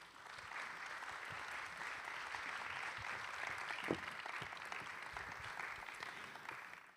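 An audience at a conference applauds continuously, a dense wash of clapping that swells slightly in the middle and fades near the end, with no talking.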